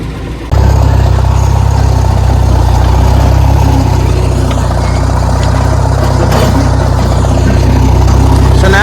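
A tractor engine runs loud and steady, close by, as a roller flattens a field of buckwheat, with a low continuous drone that barely changes pitch throughout.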